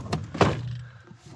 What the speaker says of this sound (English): Once we close that door